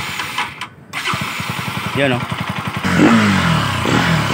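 A stock Bajaj Pulsar NS200 motorcycle, freshly given new coolant and oil, is push-started: a rapid rhythmic engine pulsing picks up and then rises into louder revving, with people talking briefly nearby.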